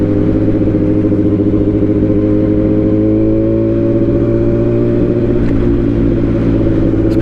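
A Yamaha R1 sport motorcycle cruises on the road, its engine a loud, close, steady drone with a slight rise in pitch as it holds speed, with wind noise and no talking.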